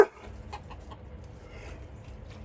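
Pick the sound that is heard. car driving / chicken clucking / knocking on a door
chicken clucking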